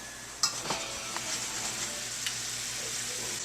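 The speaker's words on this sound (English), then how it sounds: "I'm actually just using cooking wine. You're going to let that boil." Cooking wine boils and reduces in a pan for hamburger stroganoff, a steady broad sizzling hiss running throughout with a few faint clinks and stirring knocks near the start.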